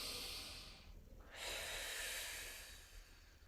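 Deep breaths during a strength flow workout in a living room, a steady airy inhale and exhale with a short pause partway through, close and clear with no talking.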